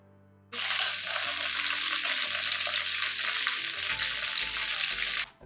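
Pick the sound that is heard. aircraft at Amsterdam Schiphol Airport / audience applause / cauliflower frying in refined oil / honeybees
cauliflower frying in refined oil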